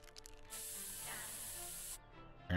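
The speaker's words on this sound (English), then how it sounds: "Then we got pepper sprayed" Pepper spray in South Park: The Stick of Truth, one sustained bright hiss of about a second and a half that cuts off abruptly, with quieter game sounds before and after.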